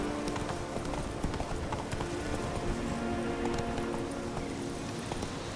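Hoofbeats of the horse Roach galloping steadily in The Witcher 3: Wild Hunt, a continuous fast clip-clop rhythm in the foreground under a low ambient game bed.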